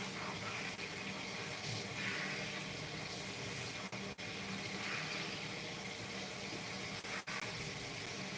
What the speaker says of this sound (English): to make sure that the water is rinsing the buildup